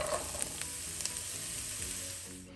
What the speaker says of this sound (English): here I'm adding the rest of the bacon oil, and I'm going to saute the veggies in there